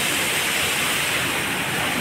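A steady, dense roar of falling water fills the whole stretch, loud and unbroken, from a waterfall heard at close range near a Shiva temple at Kapil Dhara.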